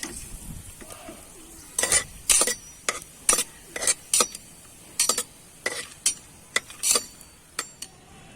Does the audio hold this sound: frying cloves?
yes